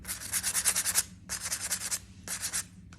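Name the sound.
sanding clay greenware with a scrubber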